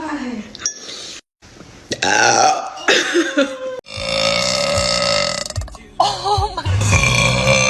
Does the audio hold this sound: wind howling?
no